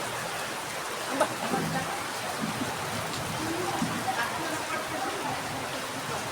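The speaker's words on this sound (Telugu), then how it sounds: "వర్షం ఫుల్గా పడుతుంది" Heavy rain falls steadily around people sheltering by a roadside, a dense, even hiss of downpour that stays constant throughout, with scattered drips and faint background sounds.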